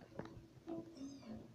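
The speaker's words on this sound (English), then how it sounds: "It's always hard to get those breed of cats. The Savannah Cat." A Savannah cat gives a few short, soft meows a little way off, thin rising calls spaced over a moment, with no voices.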